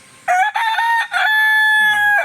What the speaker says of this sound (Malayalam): ഒന്നുകൂടെ കൂവ്